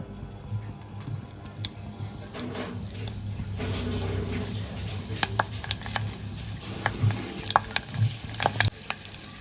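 Onions sizzle in coconut oil as a tempering for mutton curry, a soft, close frying hiss broken by sharp clicks and scrapes of a stirring spoon, growing busier toward the end.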